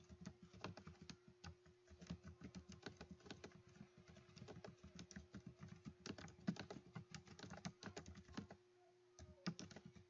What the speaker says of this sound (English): So I'm going to type this.